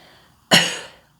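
A man coughs after drawing on a tobacco pipe: one sharp, close cough that fades over about half a second, with no other sound around it.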